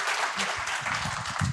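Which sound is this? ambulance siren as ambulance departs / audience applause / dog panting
audience applause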